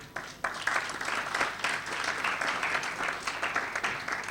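A crowd applauds steadily, with dense overlapping claps holding at an even level for several seconds.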